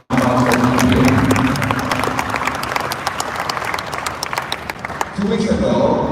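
Crowd at a send-off ceremony for a U23 men's national soccer team claps for the lieutenant governor, a loud, close burst of applause that holds steady for several seconds, dips slightly, then swells again, with voices mixed in.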